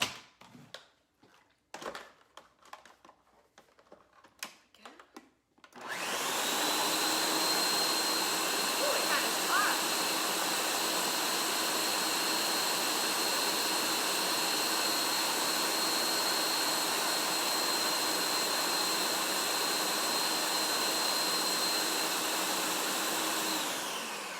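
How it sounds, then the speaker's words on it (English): A food processor blends Tuscan tomato soup, roaring up after a few seconds of quieter clatter into a loud, steady, high whirring drone that holds unchanged to the end, close by. "We're gonna blend it up."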